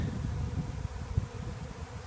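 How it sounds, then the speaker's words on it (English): A honey bee swarm in a Maryland garden in May hums with a dense, continuous low buzz close by, steady with small fluctuations and no talk. "A lot of bees are coming"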